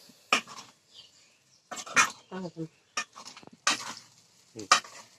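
Fried rice tossed and mixed in an oiled pan makes quick, close scraping and stirring strokes in short bursts with a faint sizzle, while a voice speaks briefly in between.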